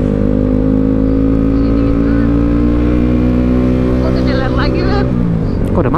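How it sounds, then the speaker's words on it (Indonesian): A Suzuki GSX 150 motorcycle engine hums loud and steady in close range, then its pitch drops and shifts near the end as the rider brakes and downshifts to second gear in road traffic. "ngerem dulu di sini, maju lagi, turun gigi dua"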